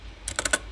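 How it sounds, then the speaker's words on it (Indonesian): A handful of quick, close keystrokes on a computer keyboard while entering a name into a web browser, crisp clicks in a short cluster over a quiet background. "Masuk ke web browser, kemudian ketik nama Xiaoqi"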